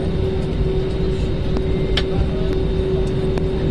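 A Jetstar jet airplane at the airport produces a loud continuous engine hum and whine, steady and close, with no talk.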